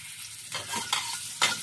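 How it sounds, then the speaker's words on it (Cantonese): Ginger slices stir-frying in a hot wok, with a quiet sizzle under a few louder bursts of stirring and scraping spread across the moment, close and clear with no talk. "咁我哋爆香佢"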